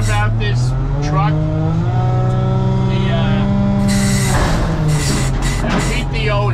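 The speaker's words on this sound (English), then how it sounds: "the PTO is very loud." A loud PTO on an older truck runs with a heavy mechanical drone and whining tones that rise and fall, with the roar swelling partway through.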